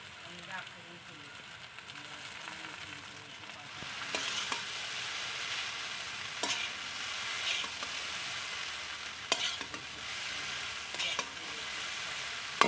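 Boiled chow mein noodles are stir-fried in a kadai, home style, with a steady soft sizzle and sharp intermittent scrapes and clanks of a spatula against the pan, fairly quiet overall.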